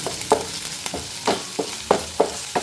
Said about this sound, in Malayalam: ഇതൊന്ന് നന്നായിട്ട് വഴറ്റിയെടുക്കാം